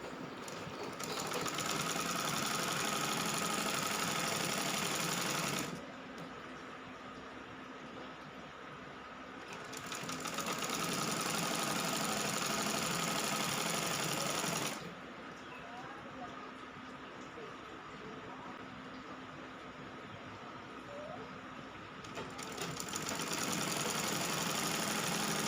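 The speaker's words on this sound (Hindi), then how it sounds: "कपड़े के कॉर्नर को 1/2 इंच फोल्ड करके इस तरीके से सिर्फ एक तरफ सिलाई चलाएंगे।" Sewing machine running bursts of stitching along a folded half-inch fabric corner of a kurti, a steady close mechanical whir in three long runs separated by quieter pauses, with no talk over it.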